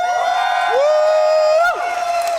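A live audience at the ESA Summer speedrun marathon cheers loudly, with one sustained, piercing whoop riding on top of the crowd noise for the whole stretch.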